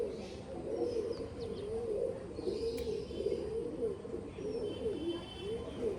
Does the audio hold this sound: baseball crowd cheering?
no